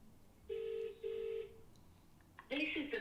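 A phone line gives a single UK-style double-pulse ringback tone, two short tones in quick succession, before the call connects to mobile voicemail. A recorded voice begins right after.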